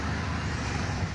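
Toyota Kijang car engine idling steadily up close, a continuous low rumble with broadband mechanical hiss and no other sounds over it.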